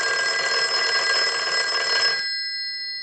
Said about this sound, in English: So we'll go ahead and start a ring cycle.